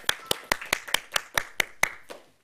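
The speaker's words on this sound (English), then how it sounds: "Another round of applause." Applause at an online awards ceremony, heard as a single pair of hands clapping nearby in a steady rhythm of about nine sharp claps that then stop.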